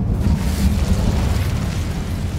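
Incendio fire spell blast in Hogwarts Legacy: a loud, continuous roaring whoosh of flame with a heavy low rumble, sustained and close throughout.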